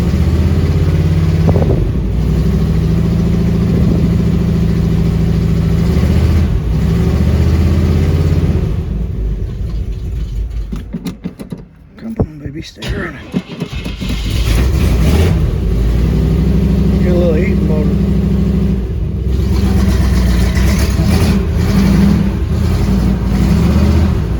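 A 1979 Chevrolet Suburban engine running loud and close after a carburetor replacement, idling steadily with a rumbling throb, then dipping briefly and surging back to a strong, even run.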